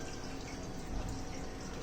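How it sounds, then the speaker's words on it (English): Water pours steadily through a PVC pipe during an aquarium water change, a soft continuous rushing and trickling flow with no talk. "So easy water changing"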